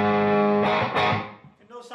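Electric guitar, a Telecaster through a Tube Screamer overdrive, rings out with a gritty, sustained chord that decays, followed by a brief new strum.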